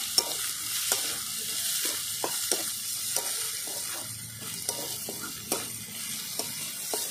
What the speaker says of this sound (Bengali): ভালো করে আমি লাল করে নেব পেঁয়াজটা আগে